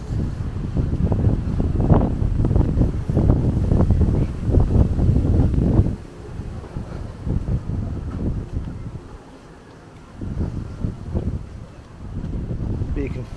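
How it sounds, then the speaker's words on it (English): Sea wind gusting across Gili Air island, a steady heavy roar for the first six seconds that then eases and returns in weaker gusts, with a voice speaking over it. "But you can feel that wind."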